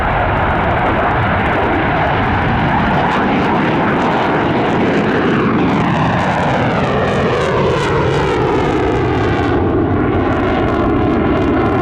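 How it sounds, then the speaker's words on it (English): An F-35 fighter jet makes a high-speed pass at an airshow, a loud, close roar that fills the whole stretch and sweeps down in pitch as the jet goes by, with no talk over it. "F-35 high-speed pass."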